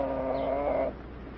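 A thin chicken, a young rooster, gives a short run of soft clucks and coos, steady and close in an old 1940 film scene, with no voices over it.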